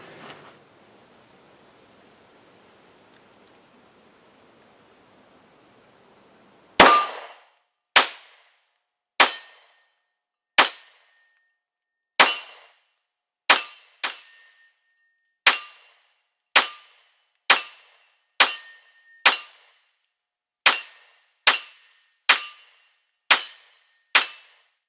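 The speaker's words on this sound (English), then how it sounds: "next up, flat dark earth frame, Glock Gen 3 with our black slide with the compensator." A Glock Gen 3 pistol with flat dark earth frame, black slide and compensator fires fifteen sharp, loud shots at a steady pace, each crack ringing briefly after a quiet start.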